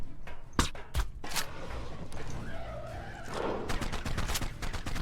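Ranged shots from a velonasaur in the game ARK: Extinction, a few sharp bursts early on followed by a steady run of rapid crackling impacts through the rest.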